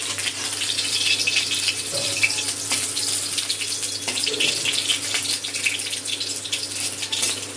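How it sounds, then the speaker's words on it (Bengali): Fish roe fritters frying in hot oil for a Sunday lunch, a steady dense crackle and hiss that runs unbroken and fairly loud from start to finish, with no voices. "বড়াগুলো উল্টে পাল্টে ভেজে দেবো।"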